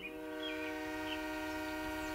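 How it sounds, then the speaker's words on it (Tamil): An approaching train sounds a sustained, steady horn chord, loud and continuous over a low rumble, with faint higher squeals layered on top. "சார், ட்ரெயின் இந்த வழியா தான் வந்துகிட்டு இருக்கு."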